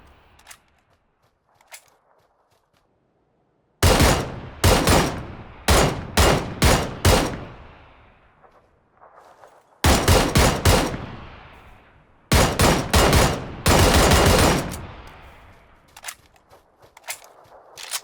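Heavy single shots from a QBU designated marksman rifle in PUBG ring out in two volleys, several loud evenly spaced cracks each with a short decaying tail, separated by a quiet pause.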